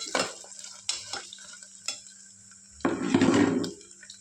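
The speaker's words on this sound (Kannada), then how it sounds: "ಇದನ್ನು ಸ್ವಲ್ಪ ನೀಟಾಗಿ ಈ ಥರ ಫ್ರೈ ಮಾಡ್ಕೋಬೇಕು." Food being stirred and fried in a pan, with a steady sizzle building to a louder burst near the end, broken by scraping taps of a spatula against the pan; close and with no voices.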